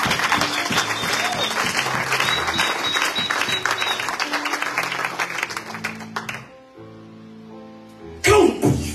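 A church congregation applauds during a sermon, a dense crowd clapping that fills several seconds, then fades out as music and a voice carry on, with a short burst of noise near the end.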